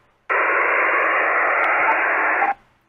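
A burst of loud hissing static from a Luiton LT-310SDR CB radio in lower sideband mode, switching on abruptly, holding steady for about two seconds, then cutting off.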